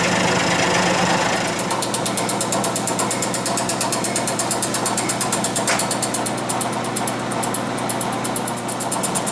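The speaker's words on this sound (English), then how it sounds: "I'll do one more pass with the fly cutter after this." A high-speed steel fly cutter on a milling machine takes a slow-feed finishing pass 3 thousandths of an inch deep, a steady loud machine drone with a fast, even ticking of the cutter across the whole pass.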